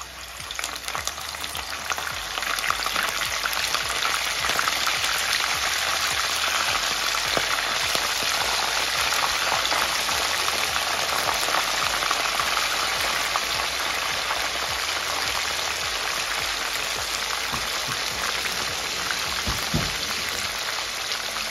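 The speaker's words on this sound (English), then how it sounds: "Fry our squid." Squid frying in a pan for a tomato fish stew gives a steady, dense sizzle and crackle that holds for about twenty seconds, fairly close, with no talking.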